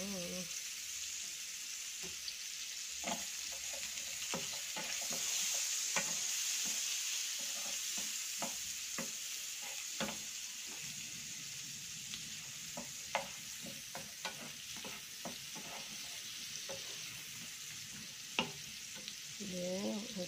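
Chopped onion sizzling steadily in melted butter in a pan, a continuous close frying hiss with scattered crackles and pops throughout.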